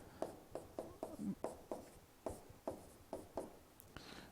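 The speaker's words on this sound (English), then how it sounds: "I'm going to write the formula down for both of them." A pen writes out a compound interest formula on paper, about a dozen quick, soft strokes and taps in an irregular rhythm, close and quiet.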